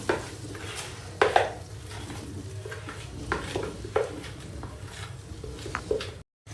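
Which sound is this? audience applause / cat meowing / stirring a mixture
stirring a mixture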